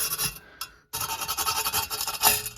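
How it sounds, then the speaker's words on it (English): A hand wire brush scrubs a headlight part from a 1966 Ford Mustang in fast, close, scratchy back-and-forth strokes, pausing briefly near the start before resuming steadily, with no talking. "I'm gonna hit it with a little hand wire brush"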